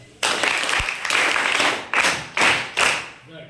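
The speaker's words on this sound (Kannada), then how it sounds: "ನನ್ನ ಪರವಾಗಿ ಆ ತಂಡದ ಸದಸ್ಯರಿಗೆ ಮತ್ತೊಮ್ಮೆ ಚಪ್ಪಾಳೆ" An audience at a school quiz competition claps for a team in several repeated bursts of applause, each swelling sharply and fading, fairly loud and close, with no talking over it.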